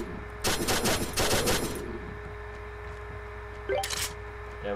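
A shotgun firing in Pixel Gun 3D, with several loud, close, sharp blasts in quick succession, a pause, and then one more burst of shots over a steady tonal game hum.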